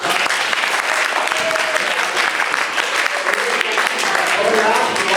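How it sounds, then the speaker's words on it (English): Loud, dense audience applause fills a hall after a stage play performance, sustained and close throughout with some crowd noise mixed in. "he needs a big round of applause right now"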